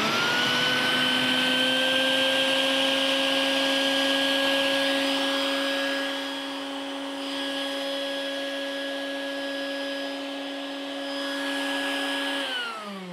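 A steady, loud whining hum of a vacuum pump shrink-wrapping a child in plastic runs continuously, its pitch dipping slightly midway before rising again, then cutting off at the end.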